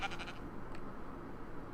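Sheep bleat in the survival crafting game TerraFirmaCraft, a wavering bleat at the start and a short second call shortly after, over a low steady background hum with no talking.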